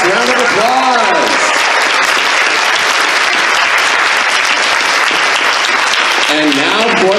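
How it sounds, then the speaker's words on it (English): Convention audience clapping and cheering at a voice-acting panel, loud dense applause filling the whole stretch, with a voice speaking briefly at the start and again at the end over it. "Round of applause, round of applause."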